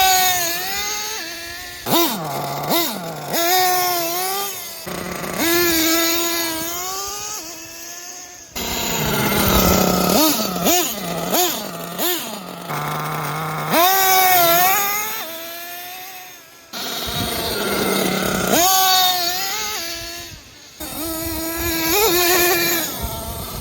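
A radio-controlled car drives with a high electric motor whine that climbs and drops in repeated bursts of throttle, close and steady with no talking.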